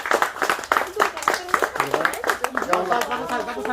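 A group of people claps hands in a quick, uneven rhythm of close slaps while voices talk and call out over the clapping.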